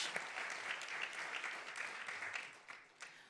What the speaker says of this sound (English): May I have another round of big applause for such wonderful performance today